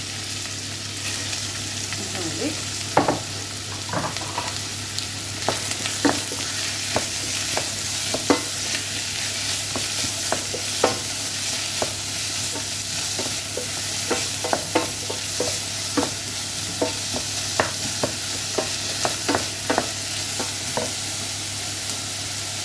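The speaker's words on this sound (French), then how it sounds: "هايني un peu de l'huile et bien sûr l'oignon, je le mélange et l'ail" Onion and garlic fry in oil in a saucepan, a steady broadband sizzle with frequent scraping clicks as the mix is stirred, fairly close and alone with no talk.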